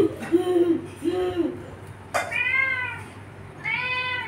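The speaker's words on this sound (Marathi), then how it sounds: "आमच्या घरी मांजर आलेले आहे आणि त्याबरोबर मनस्वी खेळते." A plump domestic cat at home meows several times, with drawn-out harmonic calls spaced across the clip, close and fairly loud. Household background noise sits underneath.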